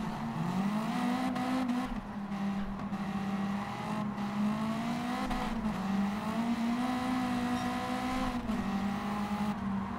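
Racing car in Gran Turismo 7, a Super GT event, holding a steady, high-pitched engine drone that rises and dips through gear changes and corners, with faint tire squeal, fairly quiet and with no talk.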